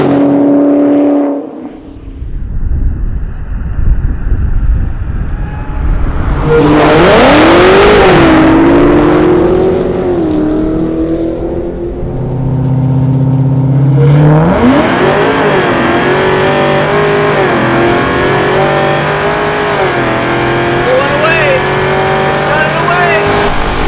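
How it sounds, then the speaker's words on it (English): A 1000 hp Dodge Hellcat Redeye and a 2021 Hellcat Super Stock street race, their supercharged V8s roaring loud through two rising acceleration runs and then holding a sustained high-revving pull. "The 1000 horsepower Redeye really pulls away from that stock Super Stock"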